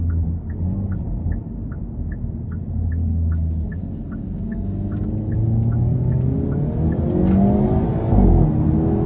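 A 2025 Hyundai Elantra N pulls hard out of a corner with N Grin Shift engaged, its engine note climbing steadily in a loud, sustained surge of acceleration heard from inside the cabin.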